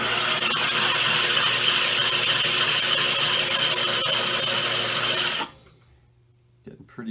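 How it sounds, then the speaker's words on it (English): An angle-grinder-style power tool with a disc grinds a glaze drip off a ceramic piece, a loud, steady grinding roar for about five seconds that then cuts off, leaving near silence and a brief scrape. "You can see it's being ground down nicely."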